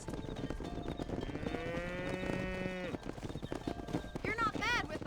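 Cattle herd being driven in Red Dead Redemption, with a drawn-out moo and another bellow later, hooves and movement in the background, and people talking throughout.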